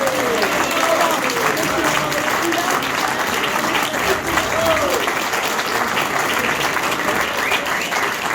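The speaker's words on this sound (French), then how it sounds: "Sous vos applaudissements," Audience applause for honored local musicians at a tribute ceremony, steady sustained clapping from a crowd filling the whole stretch, with voices faintly talking underneath.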